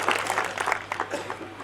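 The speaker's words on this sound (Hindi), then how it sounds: "एक बार इनके सम्मान में जोरदार तालियां हो जाए।" Audience clapping at a Hindi poetry gathering (kavi sammelan), a moderate, uneven wash of applause that swells and thins over a couple of seconds with faint voices mixed in.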